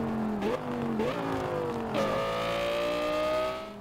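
A car driven in the video game Garry's Mod, its engine revving and climbing in pitch through several gear shifts, then holding a steady high drone, fairly close and alone without talk.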